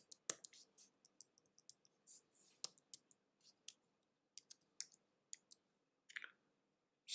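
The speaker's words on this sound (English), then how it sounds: "I'll just type that in." Quiet typing on a keyboard: scattered, irregular clicks and taps close by, with brief pauses between keystrokes and faint background in the gaps.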